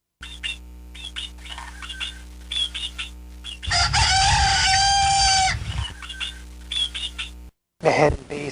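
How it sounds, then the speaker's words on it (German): A rooster crows loudly and close in one long call after repeated hen clucking, with a brief second crow at the end, all over a steady low hum and faint talk. "Wir hätten dieser Huhn gehabt."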